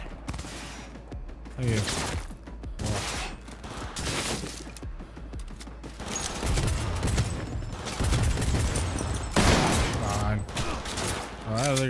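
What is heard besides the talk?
gunfire from enemies in video game Cyberpunk 2077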